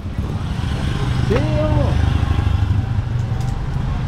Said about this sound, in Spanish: Ahí viene una moto